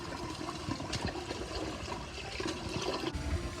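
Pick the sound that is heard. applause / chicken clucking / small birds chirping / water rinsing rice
water rinsing rice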